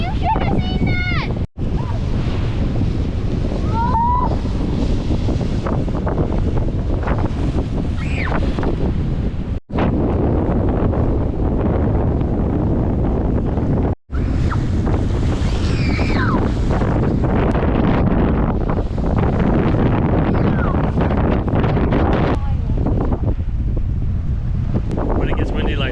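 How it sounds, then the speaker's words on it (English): Strong wind at a Michigan lake campsite, roaring and buffeting the microphone continuously, with lapping waves beneath and children and adults talking and calling out over it. "When it gets windy like this, it looks just like the ocean."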